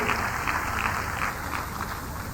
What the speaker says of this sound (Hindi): जोरदार ताली बजाकर उनका स्वागत करना चाहेंगे